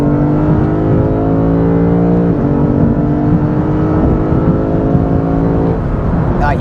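Under hard acceleration, a Lexus RC F Fuji Speedway Edition lets out a loud, close engine roar, its pitch climbing steadily through the gears with brief dips at each shift.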